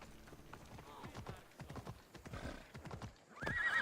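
Horse hooves clip-clop and a horse whinnies in the Assassin's Creed Odyssey video game near Greater Athens, with someone talking over the hoofbeats before the neigh rises at the end.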